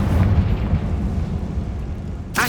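A Confringo spell explodes in the Hogwarts Legacy video game. A single heavy, rumbling blast rolls out and decays over about two seconds. It is close and loud.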